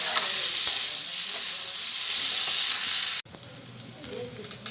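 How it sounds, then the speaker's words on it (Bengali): Potatoes frying and being stirred in a pan for potato chop filling, a steady close sizzle that drops abruptly to a quieter hiss with faint stirring near the end. "আলুটা ভালো করে ভেজে নিয়ে তারপর আমি গ্যাস করে আলুটা টিপে দেবো"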